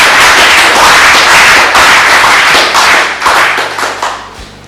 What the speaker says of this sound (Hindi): और समुंदर की बजा लो ताली।